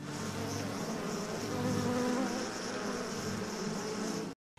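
Honey bees at an apiary kept by farming families, a dense, steady droning buzz of many insects heard close by for several seconds before it cuts off abruptly, with no voices.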